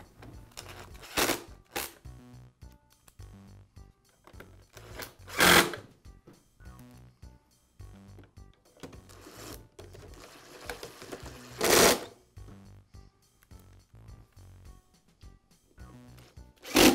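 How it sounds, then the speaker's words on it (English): Screws being driven back into the housing halves of a Bostitch air compressor: several short bursts of a whirring screwdriver with quiet clicks and handling noises in between, close by. "Now I'll reinstall the screws that secure the two halves of the housing together."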